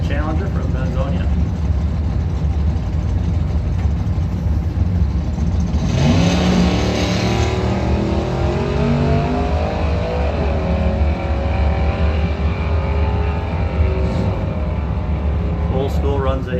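A 1964 Ford Fairlane 500 at a drag race, its engine roaring loud and continuous, rising sharply in a revving surge midway and then holding a strong, steady drone.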